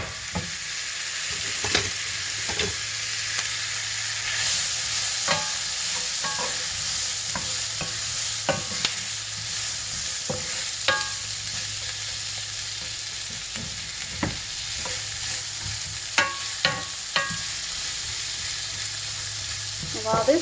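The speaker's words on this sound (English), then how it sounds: "Let's add in the onions and squash." Onions and squash sauté in a pan for Southern-style squash and jalapeño cornbread, with a steady close sizzle and the scrape and clack of a stirring utensil at irregular moments.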